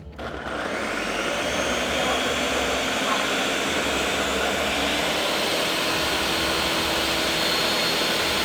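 A kitchen mixer blends a mixture that includes the zest of a whole lemon, giving a loud, steady, continuous whir that holds for the full span from a quick start.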